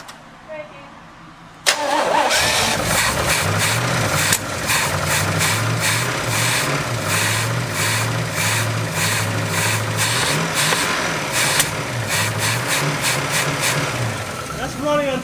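A forgotten muscle car stored for 33 years, running on 30-year-old gas, cranks briefly and fires up, then settles into a loud, steady, slightly lumpy idle close by with a few small surges.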